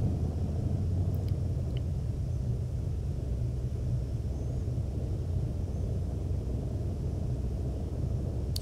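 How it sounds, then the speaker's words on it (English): A Platinum Airways Boeing 737 slowing and taxiing after landing on runway 16L at Salt Lake City, heard as a steady low rumble of engines and airframe noise that holds evenly throughout. "Smooth little landing in the Platinum Airways 737."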